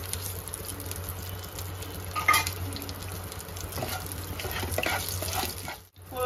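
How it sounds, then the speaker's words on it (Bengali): Dried chili and mustard seeds temper in hot oil, giving a soft continuous sizzle and light stirring scrapes, close but faint, briefly dropping near the end. "ফোড়নটা একটু নাড়াচাড়া করে নিয়েছি"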